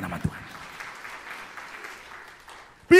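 A church audience applauds at the close of an Indonesian sermon: a brief sharp clap, then a sustained wash of clapping that gradually fades before a voice starts abruptly at the end.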